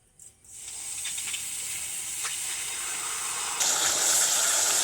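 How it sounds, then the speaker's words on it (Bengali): Water poured into a hot kadai hisses and steams steadily throughout, close and fairly loud, with a brief knock at the start and a surge of hissing near the end. "প্রথমে কড়াইতে জল কিছুটা দিয়ে দিচ্ছি"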